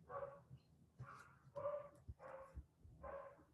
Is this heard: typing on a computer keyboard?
no